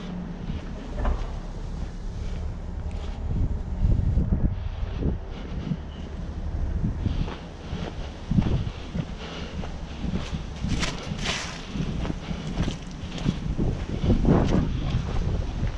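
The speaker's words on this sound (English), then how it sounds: "Damn wind taking my damn straps." Outdoor wind gusts around a flatbed truck loaded with lumber, a steady, rumbling buffeting that roars against the microphone and swells and eases over time.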